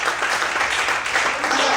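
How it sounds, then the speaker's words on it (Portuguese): A church congregation claps together, dense and loud, a continuous wash of applause filling the whole moment. "Todos podem aplaudir e glorificar o Senhor por conta disso."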